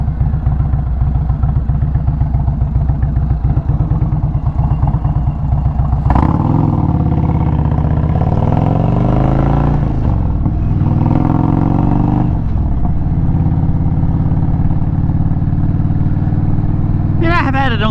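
A motorcycle rides along back roads, its engine droning steadily and close, with rising and falling revs as it shifts and accelerates through bends, wind noise around it.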